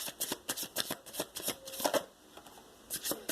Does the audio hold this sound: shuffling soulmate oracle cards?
yes